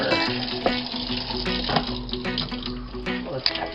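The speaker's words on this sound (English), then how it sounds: "There's our hot water." Hot water runs from a tap inside a travel trailer, a steady splashing stream with clattering knocks and gurgles close by.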